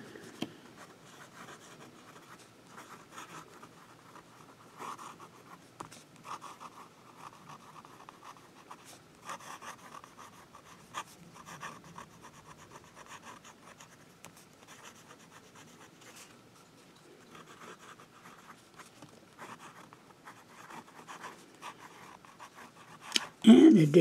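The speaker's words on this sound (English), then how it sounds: "do some writing." A fountain pen scratches and glides across paper, soft, close and steady, with faint rustles in between and a louder knock near the end.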